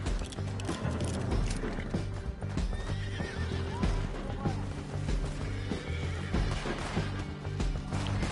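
In Red Dead Redemption 2, a horse whinnies repeatedly over busy hoof clip-clops and clattering game noise, the neighs rising clearly above the dense, continuous action mix.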